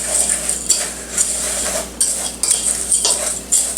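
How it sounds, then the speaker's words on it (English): Spoon scraping and clinking steadily against a bowl while mixing breadcrumbs with Cajun seasoning for fried cod, a close, busy rhythm of repeated strokes with no talking. "So let's mix that around real good"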